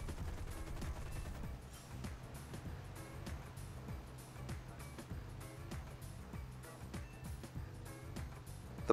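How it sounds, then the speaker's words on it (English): In War Thunder, a P-400 fighter fires its machine guns in dense continuous rattling bursts over a steady engine drone, fairly faint overall. "Going to finish this guy off using the machine guns while the cannons reload."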